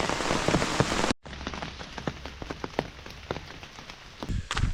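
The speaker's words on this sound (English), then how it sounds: "It's storming." Heavy rain pours onto the Appalachian Trail during a storm, a dense steady hiss with scattered drop impacts, briefly cut off near the start and then resuming loud and continuous.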